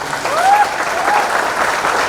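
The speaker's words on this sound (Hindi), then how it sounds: "ओम प्रकाश जी के लिए एक बार फिर से हाथ उठाकर हवा में जोरदार तालियां होनी चाहिए" Crowd applause at a celebratory auto rally honoring a Miss India 2020 runner-up, a steady, dense wash of clapping through the whole stretch with no talk over it.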